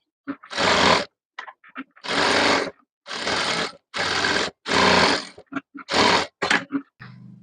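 Sewing machine stitching around lining cloth, running in loud close bursts of about a second each, separated by short pauses and small clicks.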